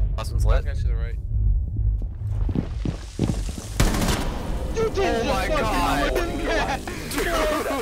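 Shotgun blasts and gunfire in Rainbow Six Siege, a few sharp booming shots early on followed by rumbling in-game action, with excited voices talking over most of it.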